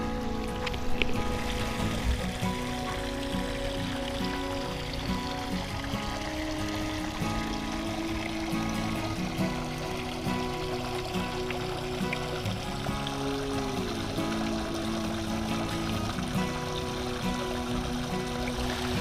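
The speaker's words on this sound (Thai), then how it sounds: "ได้ยินเสียงไหมครับได้ยินเสียงน้ำตกไหม" Artificial waterfall fountain, driven by a 12V pump, pouring into a garden pond; a steady, close, continuous rush of falling water holds at an even level throughout with no talk over it.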